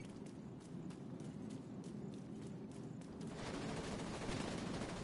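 Enemy gunfire in The Division 2: a rapid rhythmic string of faint shots at a distance, then a louder, denser burst of fire that thickens into continuous noise.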